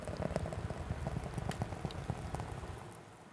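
Red Bull energy drink pouring from a can, a close fizzy, bubbling patter that stays steady and then tapers off near the end.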